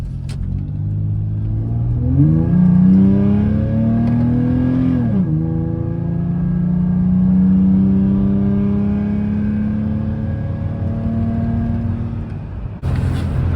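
A Toyota 4Runner with a Cherry Bomb muffler, deck plate and ISR mod pulls away from a stop and accelerates through the gears, a loud close exhaust drone rising and dropping with each shift, steady for the whole run.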